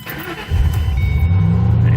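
A Ford Mustang engine, just after a throttle body cleaning, cranks and fires up about halfway through, settling into a loud, steady low rumble at close range.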